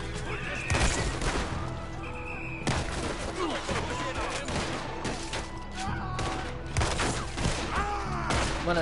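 A sawed-off shotgun in Red Dead Redemption 2 fires repeatedly amid a chaotic gunfight, dense bursts of shots layered with horse whinnies and crashes while a voice talks over the action.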